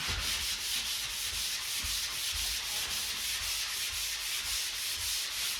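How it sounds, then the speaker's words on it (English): Rapid back-and-forth rasping of a 220-grit sanding sponge rubbed across oiled wood, in a steady repetitive rhythm, close and fairly quiet. "I take a 220 sanding sponge and I just go over it."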